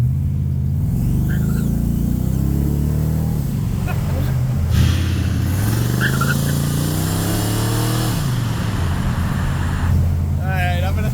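Two ProCharged supercharged Corvettes, a C8 and a C4, launch from a traffic light, engines rising and falling through repeated revving pulls and gear shifts, loud and close, with people talking over them.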